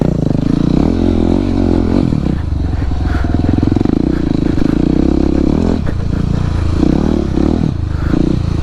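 A Husqvarna 701 700cc supermoto motorcycle rides on icy, snowy roads, its loud engine droning and revving steadily up close with clattering and scraping over the surface.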